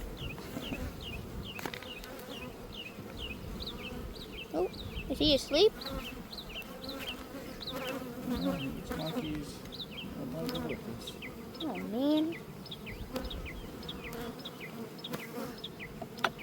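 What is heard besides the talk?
honey bees flying and buzzing at hive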